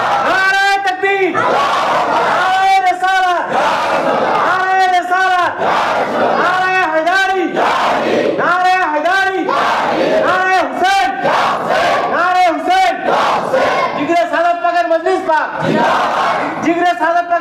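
A large crowd at a Bengali religious gathering chants Allahu Akbar in answer to a takbir call, loud rhythmic shouted phrases repeated about a dozen times in steady succession, close and filling the space.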